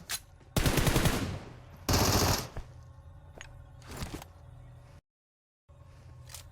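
Automatic weapon fire in the mobile battle royale game PUBG Mobile rattles out in loud, dense bursts, two long volleys followed by shorter shots and a brief silent gap.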